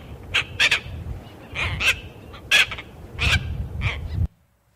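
Two seabirds trading loud, harsh calls in repeated bursts, close by, with low rumbling background noise between calls.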